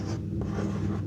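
Marker or chalk writing a number on a board during a Class 12 maths lesson on determinants, a short continuous scratchy stroke heard close up over a steady low background hum.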